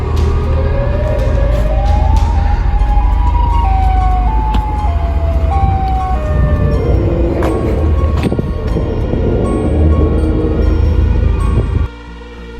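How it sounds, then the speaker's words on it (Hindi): A loud wailing siren rises and falls continuously, close and dominant over traffic rumble, cutting off abruptly near the end. "तभी इसे एक सायरन की आवाज़ आती है"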